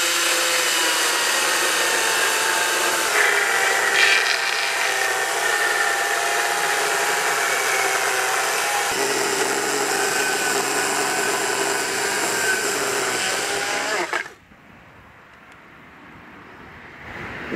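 Makita battery chainsaw cutting through a wooden sleeper, a steady high-pitched whine under load for about fourteen seconds, then stopping abruptly and leaving near quiet.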